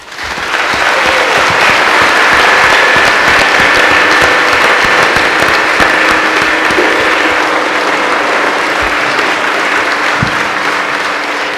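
Dense, sustained applause from a large audience gathered in a church hall, loud and steady throughout, with a faint tonal hum beneath and no talking over it.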